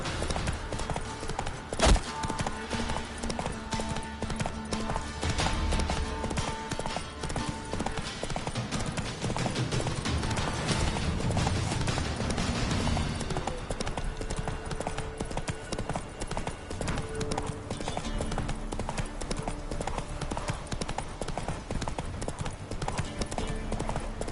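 Roach, a horse in the video game Witcher 3, keeps up a steady rhythmic clip-clop of hooves through a long ride. The hoofbeats sit in a dense mix of game sound and music, with brief voices now and then.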